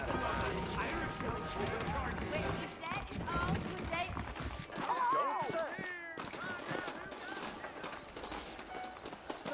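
Hooves clip-clop at a steady trot in the Western video game Red Dead Redemption, rhythmic and fairly close, mixed with game sounds and voices talking throughout.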